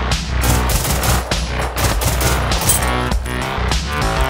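Loud, continuous automatic gunfire in the video game Generation Zero, dense rapid shots layered over game music and effects, with no talking.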